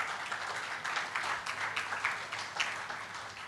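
Applause from the audience at an Auto CNG stakeholders workshop, honouring the panel: a dense, steady wash of many hands clapping at moderate distance, swelling slightly in places and continuing without speech.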